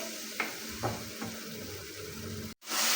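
Chopped tomatoes cook on high heat in a pan for achari daal, giving a steady close sizzle with a few soft stirring scrapes and a brief cut-out near the end.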